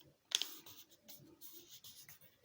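Origami paper is folded and creased by hand, with a sharp crinkle at the start followed by soft, close rustling and light scraping strokes, quiet with no talking.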